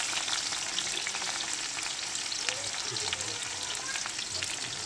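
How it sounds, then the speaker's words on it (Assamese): Onions sizzle in a hot pan, a dense continuous crackle with occasional scraping of a spoon stirring them through; close and fairly loud with no talk. "প্ৰথমতে পিঁয়াজ দিলোঁ, পিঁয়াজখিনি লৰাই দিলোঁ।"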